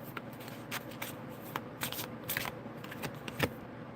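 A deck of cards shuffled for a reading, a steady run of riffling and flicking card sounds, close and continuous with no talking.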